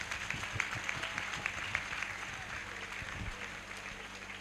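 Worshippers at a Hindi-language church service clap their hands together in a steady, rhythmic beat, a moderately loud wash of applause from a gathered congregation.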